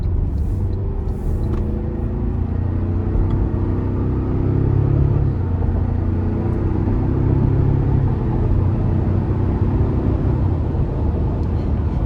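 A 2024 Toyota Tacoma SR5 with the 2.4-liter turbo four accelerates under light throttle, a steady low engine and road rumble building slightly and holding from inside the cab, with no talk.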